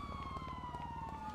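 A police siren in Grand Theft Auto wails steadily with a sliding tone over a rapid pulsing pattern, moderately quiet and uninterrupted.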